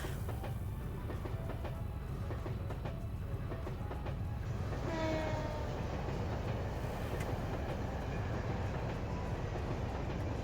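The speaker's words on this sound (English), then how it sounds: "I think the train sounds add to it." Train sounds in the video game Trails to Azure form a steady, moderate rumble of rolling rail cars with a rhythmic clickety-clack that runs throughout, and no talk is heard.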